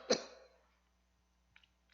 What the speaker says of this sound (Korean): 목이 건조해지니까 기침이 나오고 그러네요.